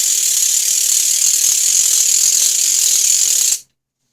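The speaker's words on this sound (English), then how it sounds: "All right, that's the ratchet." A ratchet percussion instrument cranked in one continuous, dense rapid clatter, loud and close, stopping abruptly near the end.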